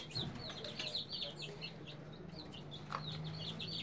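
Chicks peeping and clucking inside a homemade coop, a steady chorus of soft chirps with a low hum in the background.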